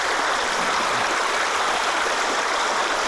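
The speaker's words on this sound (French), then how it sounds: "rentre dans l'eau" Fast-flowing stream water rushes in a steady, close, loud broadband wash with no clear individual splashes, as an angler wades into a trout stream during touch-ledgering for a small brown trout.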